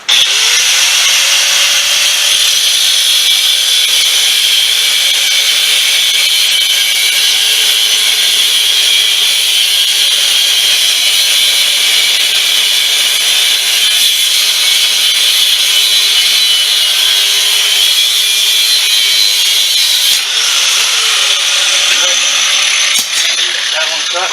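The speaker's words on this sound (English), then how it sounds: "Get the grinder." A power grinder cutting during a gas-powered ride-on toy car build, giving a loud, continuous high whine that holds steady for over twenty seconds and shifts pitch near the end.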